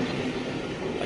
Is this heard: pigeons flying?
no